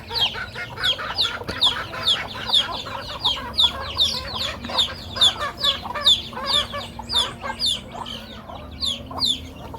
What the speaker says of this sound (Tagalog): Ang dami naming chicken chickens.